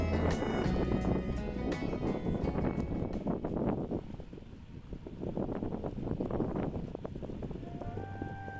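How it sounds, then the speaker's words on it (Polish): Strong wind roars and buffets the microphone in a loud, continuous rush by the botanical garden gate in Myślęcinek, Bydgoszcz, with gusts rising and easing throughout. "ale wiatr daje"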